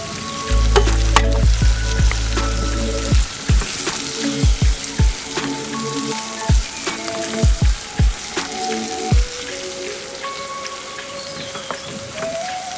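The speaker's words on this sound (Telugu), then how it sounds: "ఇందులో కొంచెం మిక్స్ అవ్వగానే ఇంకా ప్రాన్స్ వేసేసుకున్నామండి." Prawns fry in a pan with a loud steady sizzle, while a ladle stirs them with repeated clanks and scrapes at close range.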